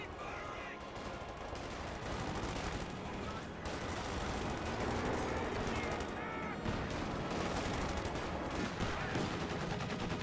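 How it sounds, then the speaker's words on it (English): Half-track machine gun fire in Company of Heroes 2, dense and continuous bursts hitting Panzer Fusiliers amid a busy wartime battle mix, loud and sustained throughout. "A half track getting some hits there onto these Panzer Fusiliers."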